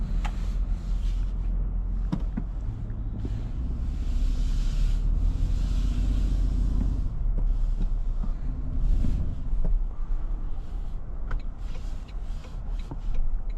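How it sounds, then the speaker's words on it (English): Inside a 2026 Toyota Sequoia Platinum on the road, a low steady engine drone with artificially enhanced V8-like cabin sound blends with road and wind rumble, swelling slightly as it accelerates, with no talk. "with the pumped in cabin noise, these Sequoias and Tundras sound like they have a V8"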